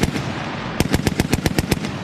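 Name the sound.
machine gun fired at National Guard range ceremonial first shot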